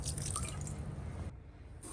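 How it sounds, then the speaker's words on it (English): Water poured onto a potted parsley plant indoors, a close, steady trickling splash that stops abruptly after about a second and a half, then resumes briefly, with no talking. "And then parsley also needs a water."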